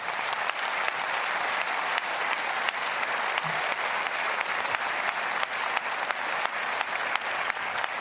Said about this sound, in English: if we could hear that applause around the world, it would be thunderous